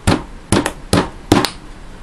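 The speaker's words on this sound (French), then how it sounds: "Ensuite, je casse 2 balles de ping-pong." Two ping-pong balls are cracked apart by hand, giving four sharp, close, crisp snaps in uneven pairs, each dying away quickly into near silence.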